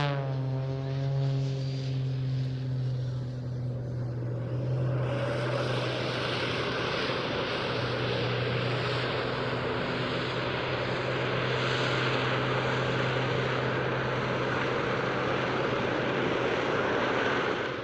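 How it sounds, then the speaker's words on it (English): An aerobatic airshow aircraft powered by a tuned Lycoming AIO 540 piston engine and two Lynx turbojets roars overhead, a droning propeller tone joined by a loud jet rush that builds and holds. "It's powered by a highly tuned Lycoming AIO 540 and 2 Lynx turbojets"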